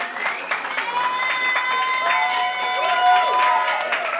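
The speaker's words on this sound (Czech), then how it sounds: "to nemusíte tleskat" An audience claps in scattered, fading applause at a band's club concert in Dílna, Zlín. Someone talks over it while a sustained tonal hum carries on underneath.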